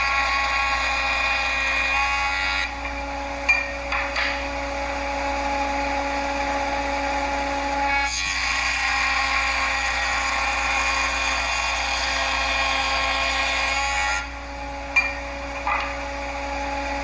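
A table saw with a crosscut sled cuts wood for beehive frame side bars, a steady high whine running continuously, with a few brief dips and knocks as pieces are fed and cut.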